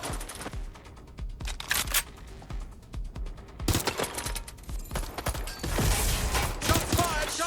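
Gunfire in a tactical shooter: repeated rifle shots and bursts, some sharp and near, others rolling, grow denser and louder in the second half, with voices calling out between them.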